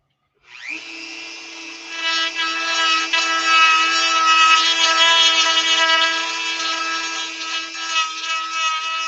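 A power sander whirs into motion and runs steadily for several seconds, its tonal buzz wavering slightly as it works on carbon fiber.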